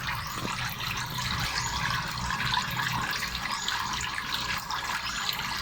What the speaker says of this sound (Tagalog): may continuous tubig siya, continuous shower